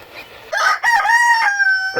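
Young cockerels crow on a farm, a couple of strained, wavering calls rising and holding close by, one following another with a short break, with faint background noise.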